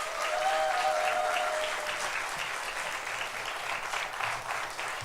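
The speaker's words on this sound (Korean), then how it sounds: "자, 우리 선교사님 위로와의 박수, 환영의 박수," A church congregation applauds to welcome a missionary, a steady wash of many hands clapping at moderate level with no talk over it.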